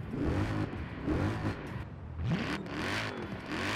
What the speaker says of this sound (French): Alors, ça sonne comme une AMG